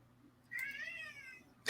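A man imitates a cat's meow with his voice: one drawn-out, rising-then-falling mewing call lasting about a second, close and clear against a quiet background, followed by a short sharp noise at the end.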